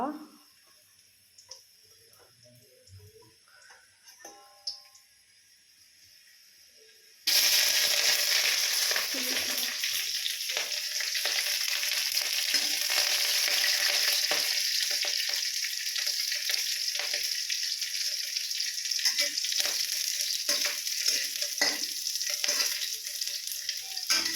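Chillies go into a hot pan, cutting from quiet kitchen clatter and a few words of talk to a loud, sudden sizzle. The sizzle holds steady and dense with crackling spits for the rest of the clip.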